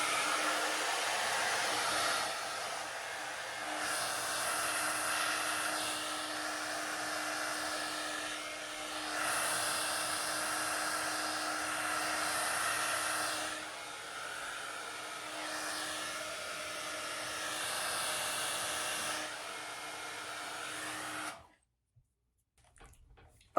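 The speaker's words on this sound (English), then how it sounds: "I'm just gonna use my little hot air brush, but just the blow dryer part" A hot air brush run as a plain blow dryer on hair gives a loud, steady whooshing roar with a constant motor hum beneath it, the tone shifting slightly as it moves, then it cuts off abruptly near the end.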